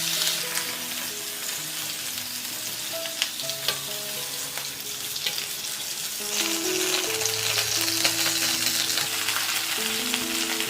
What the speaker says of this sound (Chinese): 把皮的这一面呢朝下，用小火慢煎